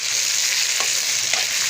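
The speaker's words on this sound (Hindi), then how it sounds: "और आलूओं को इसमें हम थोड़ा सा फ्राई कर लेंगे।" Potatoes frying with garlic and ginger paste in a pot for vegetable pulao, a steady close hiss of sizzling oil with a couple of soft stirring scrapes, no talk.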